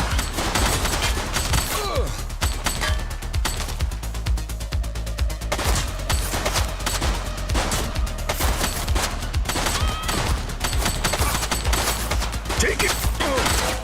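Dense rapid gunfire from a police shootout in The Precinct, continuous loud bursts and volleys of shots packed through the whole stretch with little pause, close and sharp, with occasional voices underneath.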